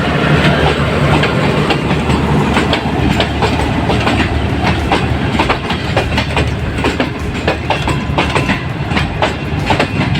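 The Khyber Mail passenger train, with a red mail van and mixed coaches, passes through Ghotki railway station with loud, continuous rumble and rhythmic wheel clatter close by.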